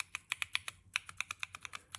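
Fingers type on a mechanical keyboard with Kailh Chocolate low-profile switches, crystal red variety, a quick run of light, snappy clicks at close range in a quiet room, with a brief pause mid-burst.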